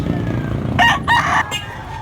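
A large rooster from Dalaguete, Cebu crows once nearby, loud, in broken segments over steady outdoor background noise.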